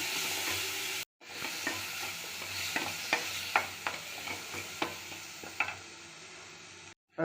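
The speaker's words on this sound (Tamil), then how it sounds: "பெரியதளவு கருவேப்பிலை போட்டு அடி பிடிக்காமல் வறுத்துடணும்" Curry leaves and onions roasting in a pan while being stirred, with a steady sizzle broken by a series of sharp spatula scrapes and taps against the pan, framed by brief silent gaps at both ends and no talking.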